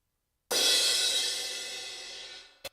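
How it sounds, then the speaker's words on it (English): A single cymbal crash rings out bright and full, then slowly decays with a shimmering wash, followed by a brief soft tap near the end. "this cymbal's gonna sound like this"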